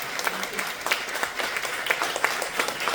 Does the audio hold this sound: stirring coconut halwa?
no